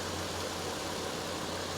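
A Nissan Frontier pickup engine idles at 700 RPM, a steady low hum with a faint even rumble running unchanged throughout the short stretch.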